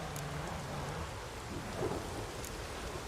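Steady rain hisses in a Witcher 3 thunderstorm, with low rumbling thunder underneath and a soft crack of distant thunder midway, a faint, even wash of weather without speech.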